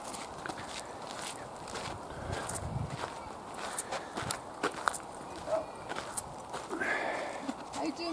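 A horse at the Irish National Stud walks with hooves clip-clopping in an irregular rhythm of close knocks. Faint outdoor background noise and light voices sit underneath.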